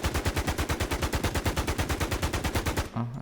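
Automatic gunfire in the video game NewZ, a long, loud burst of evenly spaced rapid shots that stops abruptly near the end, followed by a short mechanical clunk.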